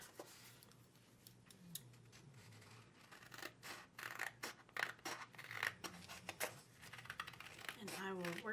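Paper trimmed with scissors at a planning desk: a series of quiet snips and crisp rustles, close and soft, spread through the clip with short pauses between cuts.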